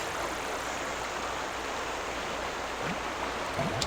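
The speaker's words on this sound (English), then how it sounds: "I'm going to get away from this waterfall just as soon as I can. It's really loud and drowning me out." Loud rushing waterfall in the video game Wizard101, a steady broadband roar of falling water that fills the whole stretch without a break, with no voices over it.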